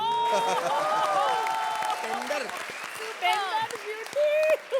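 Studio audience claps and cheers on the comedy show Comedy Circus Ka Jadoo, a bright burst of applause with laughter and voices mixed through it, rising again near the end.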